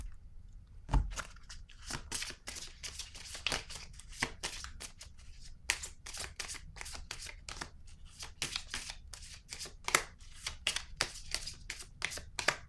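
Oracle cards being shuffled and one drawn from the deck, heard as a close, quiet run of rapid papery flicks and rustles with no talk.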